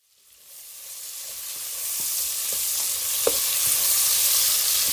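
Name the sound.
squid sautéing with ginger, onion and garlic in pan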